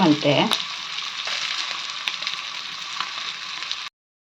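Fish frying in a pan in a village kitchen, a loud continuous sizzle after a short clatter at the start, carrying on steadily with small pops before it cuts off abruptly.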